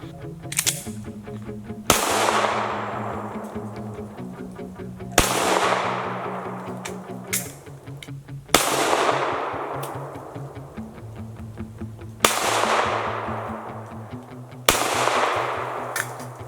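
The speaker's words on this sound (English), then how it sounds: "Try a left-handed shot too." Pistol shots fired left-handed at night, six sharp loud reports spaced a few seconds apart, each ringing out with a decaying echo over a faint background.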